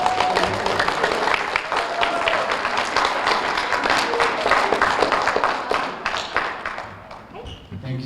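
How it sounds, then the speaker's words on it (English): Loud, close audience applause at a school science fair awards ceremony, dense clapping with some cheering that tapers off toward the end as voices talk over it. "give these folks a big round of applause"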